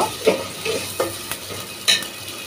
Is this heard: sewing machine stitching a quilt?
no